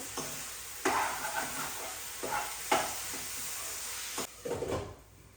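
Chicken frying in a pan for chicken fried rice, a steady sizzle broken by several louder bursts as the pieces are stirred and turned, close and without talk.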